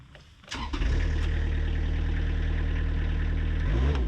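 Multione mini loader engine cranking and catching after a brief quiet start, then settling into a loud, steady, rumbling idle close by, with a slight rise near the end.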